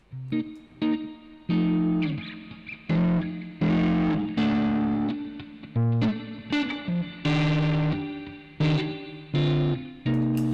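A synth run through the Tritik Krush VST drive distortion gives a fuzzy, gritty tone with a ring-mod edge. Chopped, loud chord stabs and sustained notes come in an uneven rhythm, with no voices.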